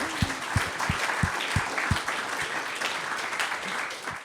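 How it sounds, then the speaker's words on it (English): An audience at a talk applauds steadily, with many hands clapping together as a dense, even wash close by and no voices over it. "We do a round of applause for that"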